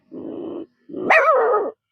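A man mimics a mother dog rushing in, giving a low growl followed by a long, loud, rising bark-howl, close up and alone in silence.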